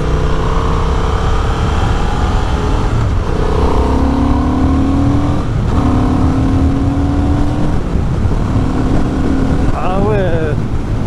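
A 2025 Honda 750 Hornet motorcycle engine drones and rises through gears while riding, with strong wind rush and a voice speaking briefly over it.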